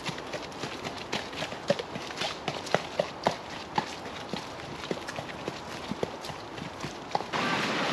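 Irregular hoof clip-clops on hard ground, fairly close, with sharp taps spaced through the clip over a faint outdoor background.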